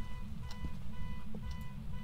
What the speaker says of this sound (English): Oh dear, the alarm's still going on.